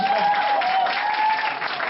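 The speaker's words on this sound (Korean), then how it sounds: "다들 박수 한번 주세요" An audience at a small theater surprise proposal event, staged as a wedding, breaks into dense, continuous applause that fills the whole moment, loud and close, with a faint tone running through it.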